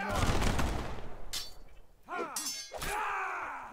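Musket shots in the Prime & Load 1776 battle game: a few sharp, loud reports with ringing, clanging tails, spaced out over a short stretch amid battle noise, with a voice heard briefly in between.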